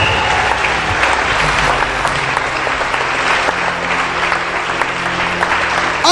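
A church congregation applauds God during a Sunday service, with dense, sustained clapping from a large crowd filling the room, steady and loud throughout with scattered voices beneath.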